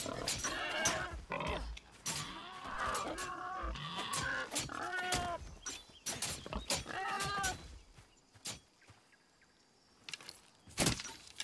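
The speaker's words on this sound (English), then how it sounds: "Are you dangerous, pigs?" Pigs grunt and snort in the Nightingale survival game, a series of close, irregular grunts crowding the first eight seconds, then thinning to scattered clicks and thumps.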